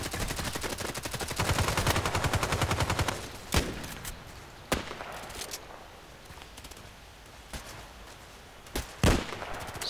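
Video game gunfire: a dense burst of rapid automatic shots at the start, followed by several sharp single shots spaced a few seconds apart over a low background of ambient battle noise.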